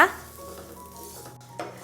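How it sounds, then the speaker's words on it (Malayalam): Spices roasting in a pan over a medium flame for an egg fry masala: a brief close sizzle with stirring and a short scrape near the end. "ഇത് ഇത്രയും ചേർത്ത് കൊടുത്തതിന് ശേഷം നല്ല രീതിയിൽ ഒന്ന് വറുത്തെടുക്കണം"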